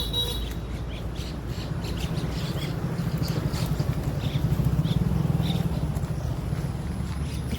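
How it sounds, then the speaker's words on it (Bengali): Pigeons gathered near a waterside where fishing boats work, rising in a rustling flurry of wingbeats that swells midway, with scattered calls and chirps over a steady outdoor background. "পায়রাদের মাঝখান দিয়ে যাবো,"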